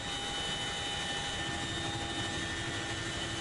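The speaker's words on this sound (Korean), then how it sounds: "시끄러운 엔진음이 600m 상공에 머물자 대원들은 한 채의 망설임도 없이 몸을 내던진다" Aircraft engine drones loud and continuous at 600 m altitude during a Korean special forces parachute jump, a steady, even hum with constant tones and no voices.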